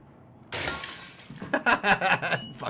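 Glass shatters with a sudden loud crash in Little Nightmares 2, a bright breaking burst followed by a run of clinking, tinkling fragments and scattered impacts.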